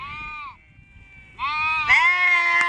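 A large mixed flock of sheep and goats grazing outdoors in rainy countryside bleats continuously. The overlapping calls are loud and close, one animal then several together, with a brief lull between them.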